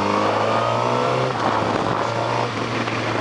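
Suzuki SRAD 750 motorcycle engine, close and loud, holding a steady revving drone that dips briefly then climbs again, with no talk over it.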